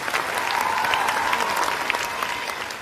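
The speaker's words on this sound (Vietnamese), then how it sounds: "Một tràng pháo tay dành cho hai bé." A studio audience applauds two young children after their long sung performance on a singing competition show, steady dense clapping throughout, fairly loud and close.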